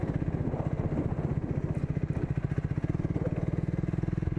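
A Triumph Speed 400 motorcycle cruises along, its engine giving a steady, low, pulsing thrum at an even pace, close to the rider with no talk over it.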